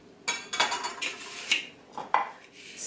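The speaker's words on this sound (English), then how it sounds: "Let's pick this up and put it over on a red plate so you can see it better." Plant-based sliceable cheese set onto a red plate, a series of clattering plate and utensil knocks, close and fairly loud, with no talking.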